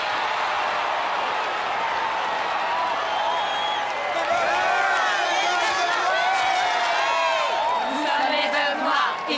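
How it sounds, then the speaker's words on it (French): A cartoon crowd at a cheerleading championship claps and cheers steadily for the competing team. The dense applause carries shouts and whoops, with a voice rising above the din partway through. "Veuillez applaudir nos premières concurrentes, l'équipe championne des États-Unis,"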